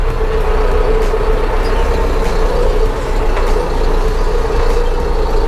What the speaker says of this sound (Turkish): traktörümüz Dorado 90